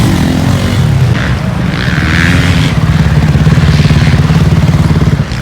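Motorcycle making a pass on a sand race track at a French beach championship, a loud continuous engine drone with a rough pulsing rhythm that swells slightly as it goes by.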